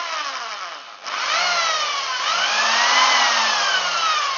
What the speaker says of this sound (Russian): Дрель. Как бы вот так вот по центру.